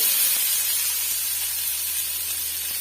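Steady, bright sizzling hiss of chopped onions frying in hot oil, continuous and even throughout with no voices.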